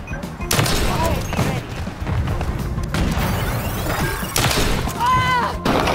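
Sniper rifle shots in an online first-person shooter crack out as several loud, close blasts with booming tails, spaced a second or two apart over rumbling game noise.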